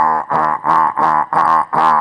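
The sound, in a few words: voice imitating a big monsoon frog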